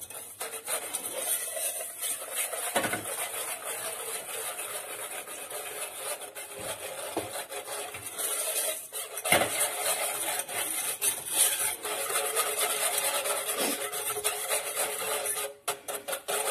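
Steady scraping and rasping of a whisk against a metal saucepan of milk, continuous and fairly close, with occasional clinks and brief pauses.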